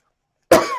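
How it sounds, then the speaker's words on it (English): A single sharp, close cough bursts out after half a second of silence, loud and brief, then tails off with a short rough decay. "this freaking cough does not want to go away"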